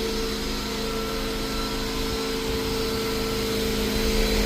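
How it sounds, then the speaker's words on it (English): A carpet cleaning vacuum runs steadily with a constant high-pitched whine over a broad roar, loud and unbroken throughout. "That's my my vacuum making that loud ass noise."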